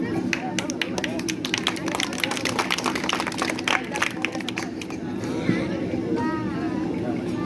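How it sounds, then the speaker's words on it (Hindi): Audience at a Sahu community gathering in Tonk claps to welcome guests onto the stage, a dense, steady patter of many hands lasting several seconds, with crowd chatter and a voice over a loudspeaker underneath. "जोरदार तालियों से स्वागत।"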